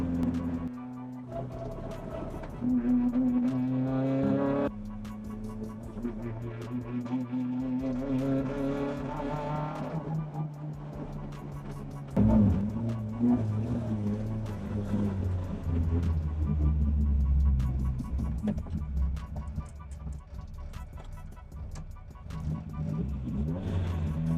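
A Toyota 4AGE engine in a rally car being prepped for the Westland Rally idles and revs unevenly with a fuelling fault, stumbling and surging close by, with some muffled talk around it.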